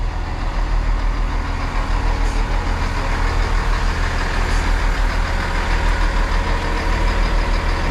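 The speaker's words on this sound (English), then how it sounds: "Perkins engine." The Perkins diesel engine of a Class 158 train idles nearby, a loud, steady low rumble with a faint rhythmic throb, with no voices over it.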